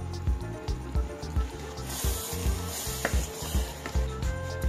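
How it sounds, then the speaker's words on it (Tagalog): A spoon stirring taro leaves simmering in coconut cream in a pot, giving rhythmic scraping knocks against the bottom over a hissing bubbling simmer, close and moderately loud. "Huwag pala natin kalimutan halu-haluin kasi dumidikit sa ilalim"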